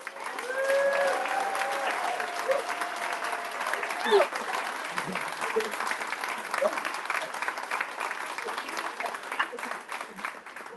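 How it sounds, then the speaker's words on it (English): Outdoor crowd applauding at a community event in the rain, a steady dense round of clapping with some cheering and tonal calls near the start, sustained throughout. "Can we get another round of applause for the running community?"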